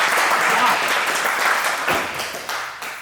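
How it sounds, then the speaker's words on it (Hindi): Audience applause at a Hindi poetry or song recital, a broad wash of clapping that gradually thins and fades. "तालियां कौन बजाएगा?"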